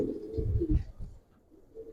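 Giribaz pigeons give a low, soft coo close by, one short rolling phrase that fades quickly to quiet.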